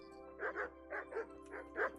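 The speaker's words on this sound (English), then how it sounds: "Man, these dogs are annoying" Dogs in the medieval video game Kingdom Come: Deliverance bark in a steady run of paired, moderately loud yaps, about six in two seconds, over low ambient game sound.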